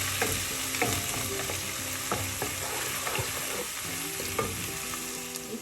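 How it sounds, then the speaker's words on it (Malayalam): Garlic and ginger sizzling steadily in hot oil in a pan for a spicy sole fish curry, with repeated close scraping and clinking strokes of a spoon stirring throughout. "വെളുത്തുള്ളി, ഇഞ്ചി നന്നായി ഒന്ന് ഇളക്കി കൊടുക്കാം."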